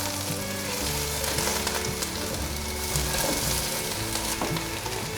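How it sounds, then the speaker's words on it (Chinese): White radish stir-fries in a hot wok with star anise, bay leaves and cinnamon bark, a loud, continuous close sizzle with a spatula scraping and tossing rhythmically throughout. "快速的翻炒。"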